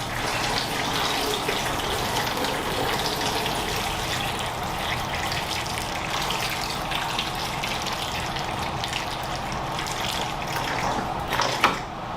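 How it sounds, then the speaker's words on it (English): Distilled water pours steadily into a container holding turkey tail mushrooms soaked in alcohol, a continuous close rushing gush that runs unbroken, with a brief clink near the end. "We'll just add some distilled water to it"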